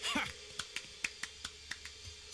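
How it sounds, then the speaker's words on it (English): A character in the video game Fable Anniversary clapping, a series of about ten crisp, evenly spaced hand claps that gradually soften, close and fairly quiet. "Guy giving me a good clap"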